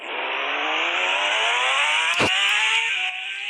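A car engine revs hard in one long, loud, rising pull that climbs steadily in pitch, with a brief sharp crack midway and the note dropping off just before the end.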